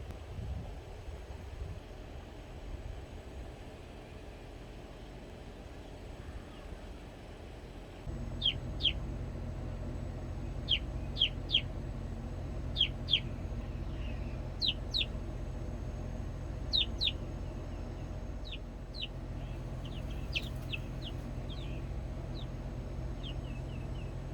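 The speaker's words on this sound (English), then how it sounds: "Here's the first chick going in to spend the day in the new chicken coop." Young chicks in a new backyard chicken coop give sharp, high cheeps, scattered and repeated over a steady outdoor hum and light wind.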